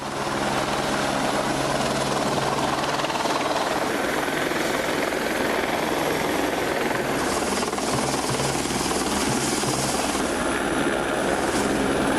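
A helicopter drones steadily overhead, its rotor chop and engine whine constant and fairly loud for the whole stretch.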